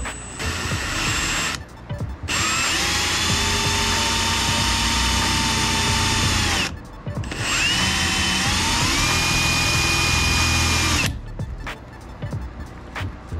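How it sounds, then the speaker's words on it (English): A hole saw on a power drill cuts a kayak panel in reverse, whining loudly in three long bursts separated by short pauses, its pitch sagging slightly as it bites into the material. "Now that we got the pilot holes, we are reverse drilling the hole saw."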